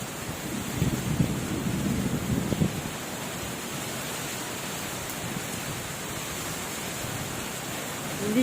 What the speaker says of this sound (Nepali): असिना पनि अलिअलि परेका छन्। हो, हुरी चल्यो, हुरी हुरी।